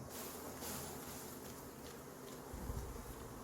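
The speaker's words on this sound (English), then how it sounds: "I'm going to shake these bees in." A swarm of honeybees hums continuously nearby as they are shaken into a brood box during a hive inspection, with a few soft bumps and thuds underneath; no one speaks.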